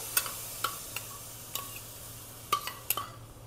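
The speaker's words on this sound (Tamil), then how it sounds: "போட்டு மிக்ஸ் பண்ணிக்கலாம். இதுவும் கொஞ்சம் நல்ல பச்சை ஸ்மெல் போகிறது வரைக்கும் வறுக்கும்." Ground spice paste for Burmese khow suey fries quietly in oil while being stirred, a soft low sizzle broken by a handful of sharp spoon clicks against the pan.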